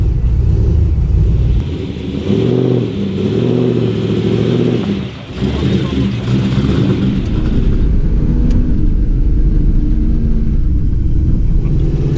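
A rally-style car with a fully manualised gearbox and roll cage drives close up, its engine note rumbling and revving steadily with brief dips as gears change.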